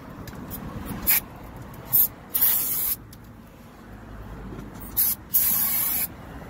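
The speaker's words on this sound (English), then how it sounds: "brake parts cleaner, spray down the back." Several short hissing bursts of brake parts cleaner sprayed on the front brakes of a 2013-2017 Honda Accord, a couple of them longer, over a low steady background hum.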